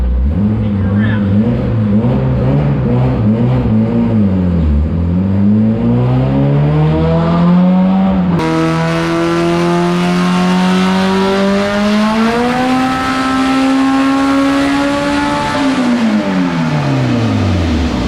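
A modified car with a 590 HP single cam engine driven around, loud engine revving up and down in long sweeping pulls with a shift partway, close and continuous.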